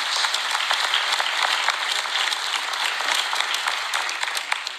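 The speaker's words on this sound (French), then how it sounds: "notamment mon ami Loïc Pédron, applaudissez-le" Audience applause at a New Year's greetings ceremony in Dol-de-Bretagne, steady, dense clapping from a large crowd filling the hall, sustained throughout with no talk over it.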